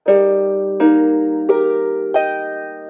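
A harp sounding four plucked pairs of notes in an exercise of paired fingers played together, each pair struck cleanly and left to ring under the next, close and clear without speech.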